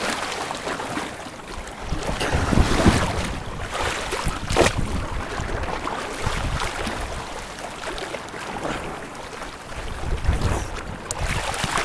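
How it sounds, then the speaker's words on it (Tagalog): Rough sea water churning and crashing continuously against a broken breakwater at Naic, Cavite, with heavy wind noise on the microphone, a loud, steady roar. "Lakas ang alon."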